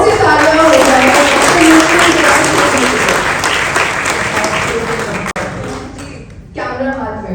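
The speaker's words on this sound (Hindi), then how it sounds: "जोर से तालियां हो जाए।" An audience at a launch event honouring Padma Shri awardee Kailash Kher bursts into loud, dense applause that thins and fades after about five seconds, followed by quieter crowd sound and a voice.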